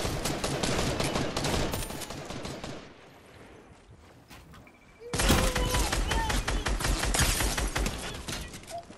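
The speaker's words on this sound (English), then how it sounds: "Someone shoot at us from the left." Rapid gunfire bursts in the video game Fortnite, loud cracking volleys that pause for a couple of seconds of near quiet, then resume in dense succession.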